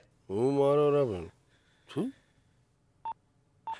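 A voice speaks, then two short keypad beeps sound a moment apart, clear and close in an otherwise quiet room.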